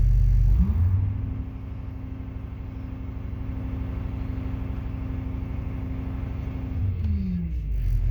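Diesel engine of a Vogue motorhome restarting and settling into a steady low idle rumble, close and continuous, with a faint whirring hum above it for several seconds before it winds down.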